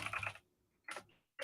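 Keys clatter on a computer keyboard in short close bursts of rapid typing separated by brief pauses, with no talking over them.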